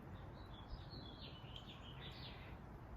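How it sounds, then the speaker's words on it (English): Birds chirp and sing faintly in an outdoor evening setting with the sun going down and leaves moving in the trees, with soft wavering calls over a low steady background hum and no talking. "the sound of the birds."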